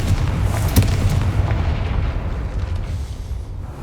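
Confringo explosive spell blast in the Hogwarts Legacy video game, a loud booming burst followed by a rumbling, decaying roar heard alone.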